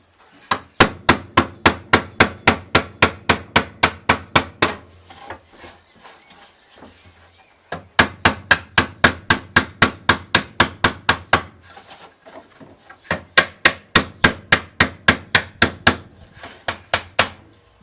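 Rapid runs of sharp metallic hammer blows on sheet metal for a Harley air filter cover, about a dozen strikes per burst, in three bursts separated by short quiet pauses.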